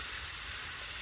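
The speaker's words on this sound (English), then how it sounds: "frying it in some butter" Chicken, onion, broccoli, asparagus and snow peas fry in butter, giving a soft, steady hiss and crackle that stays constant and faint throughout.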